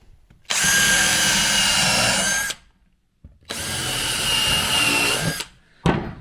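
Power drill driving fasteners into decking boards, two long loud whirring bursts of about two seconds each separated by a pause, then a brief final blip, close up with no talk.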